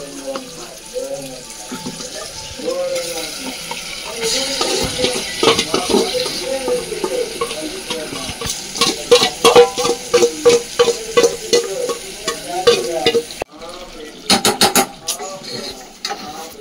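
Chicken with tomatoes and onions frying in a pot, a steady wet sizzle broken by repeated scraping stirs and clanks of a spoon against the pot, close and loud, with a few sharp knocks near the end.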